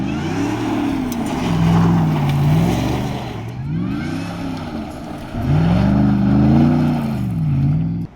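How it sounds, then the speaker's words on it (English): A 1977 Chevy K10 truck with a supercharged 650-horsepower LT4 V8 and eight-speed automatic revs in repeated rising and falling swells, engine roar layered with a whining blower, loud and close with no talking. "The blower whine on the thing is exceptional."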